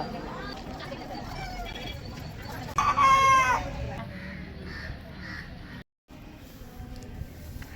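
A rooster crows once at the Pamban Swamigal temple in Thiruvanmiyur, a short loud call rising out of the general hubbub of a crowded temple courtyard, with murmuring voices and background noise around it.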